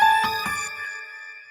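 A phone's electronic ringtone chimes loud and close: a few quick tonal pulses, then one sustained ringing note that slowly fades out.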